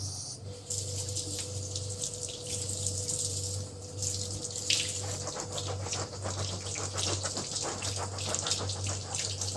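Hot tap water runs into a sink while goalkeeper gloves are rubbed under it, a steady splashing flow that swells louder and brighter midway.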